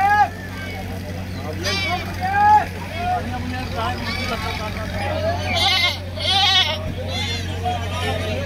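Goats bleat repeatedly at an outdoor goat market in Moradabad, several calls near and far over crowd noise, while people talk nearby.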